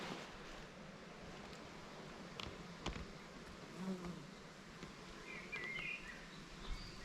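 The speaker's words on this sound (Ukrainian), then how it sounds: "є, є, бджолів є, значить вони беруть мед" Faint, steady buzzing of bees working buckwheat flowers outdoors, spread across the whole stretch, with a few soft chirps and rustles in the background.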